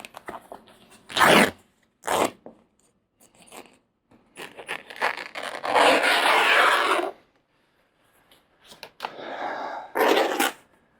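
An old, deteriorating pad on a 1969 Corvette convertible top is cut away, with loud close bursts of slicing and tearing, one long ripping stretch, and quieter rustles between.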